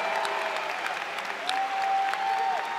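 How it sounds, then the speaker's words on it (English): Audience applause and cheering for StarCraft Zerg player CrazyMoving at a live esports tournament, a steady, dense wash of clapping from a large crowd, with a sustained electronic tone rising briefly partway through. "And give a huge round of applause for the showman Zerg, CrazyMoving."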